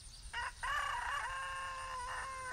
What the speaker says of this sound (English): I'm listening to the two roosters crow battle.